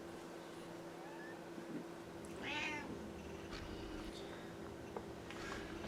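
A domestic cat meows a few times indoors, short quiet calls spaced apart over a low steady background hum.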